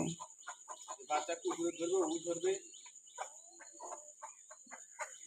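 Chickens and a rooster kept on a farm on a rainy day, fairly close and soft. The flock gives overlapping clucks and a drawn-out call over a steady background hiss.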